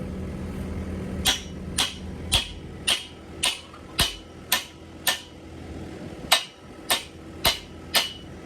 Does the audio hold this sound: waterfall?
no